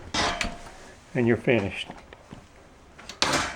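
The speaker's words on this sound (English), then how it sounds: "And then you just close your door" A Kenmore oven door with lift-off roller-pin hinges swings shut, giving short broadband clunks near the start and a louder thump at the end, while someone talks briefly in between.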